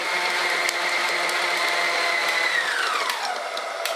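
A stand mixer kneads savarin dough for a rum baba with a steady whirring motor drone, then its pitch sinks as the machine slows down toward the end, with no talking.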